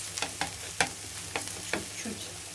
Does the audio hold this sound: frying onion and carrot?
yes